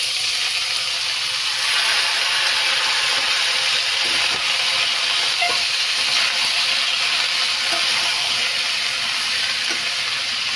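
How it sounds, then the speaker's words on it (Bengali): Gobindobhog rice frying in a pan for a vegetable pulao, giving a steady, close sizzle that holds at an even level throughout with faint stirring scrapes and no voices. "এটা একটু ভালো করে ভেজে নিব।"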